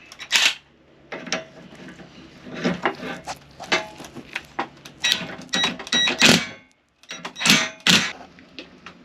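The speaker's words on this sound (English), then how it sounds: "I'm just tightening it by hand, and it's slowly moving that ball joint out." A ball joint press being tightened by hand on a 2000 Toyota 4Runner during an upper ball joint replacement, with repeated close metallic ratcheting clicks and creaks in uneven bursts, broken by short pauses.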